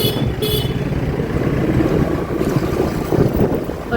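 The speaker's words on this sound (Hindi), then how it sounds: "आगे आके देखो कितना ट्रैफिक है भाई" Busy road traffic on the way to Triyuginarayan temple, a steady roar of engines and wind buffeting the microphone, with a brief horn-like toot near the start.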